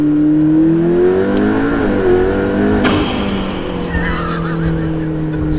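McLaren P1 hypercar engine revving hard and accelerating on the road, a loud close rising whine and roar that climbs, dips and keeps pulling, with no talk.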